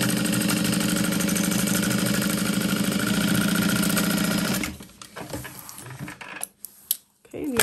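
A sewing machine runs a fast, steady basting stitch through a handbag panel for about four and a half seconds, then stops, leaving quiet handling noises.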